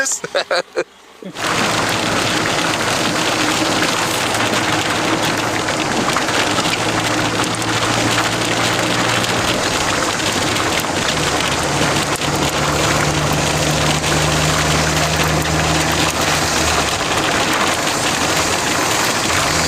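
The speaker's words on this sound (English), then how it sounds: "Listen to that rain. I know, it's really heavy." Heavy rain pours down steadily and loudly, a dense continuous hiss throughout, with faint low rumbling underneath.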